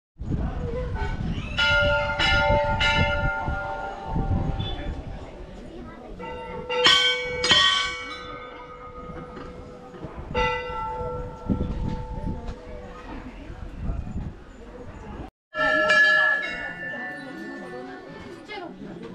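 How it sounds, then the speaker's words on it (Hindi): Old bells of many sizes ring repeatedly at the Golu Devta temple in Ghorakhal, with loud, overlapping metallic strikes sounding close by over a steady background hum and a brief silent gap. "छोटी बड़ी घंटियाँ सभी प्रकार की, बहुत ही पुरानी पुरानी घंटियाँ आपको यहाँ पर देखने को मिलेंगी"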